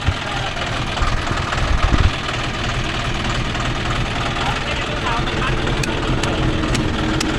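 A John Deere 5045D 4WD tractor engine runs steadily at a constant drone in a field, with people speaking over it.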